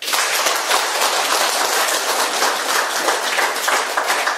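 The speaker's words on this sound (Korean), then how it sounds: "조상님들을 위해서 박수 한번 하겠습니다." An audience applauds for the ancestors at a lecture gathering, dense steady clapping from many hands filling the room throughout, loud and close.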